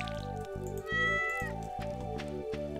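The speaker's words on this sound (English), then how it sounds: "Let's water our kitty cat." A pet cat in the farming game Stardew Valley gives a few clear, close meows over steady looping background music, with no talking.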